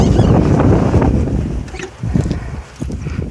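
Wind blowing hard across the microphone during a sunset safari drive in the bush, a loud, roaring gusty rumble that eases slightly midway and surges again, with no voices.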